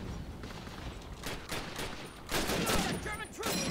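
Rapid bursts of gunfire crackle through a Call of Duty: United Offensive World War II firefight, dense overlapping rifle and machine-gun shots, loud and close, growing heavier toward the end.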